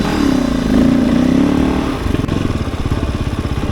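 A Kove 450 Rally motorcycle engine revving, with a rising and falling drone followed by a choppy, pulsing thump as the clutch is worked hard, loud and close with no talking.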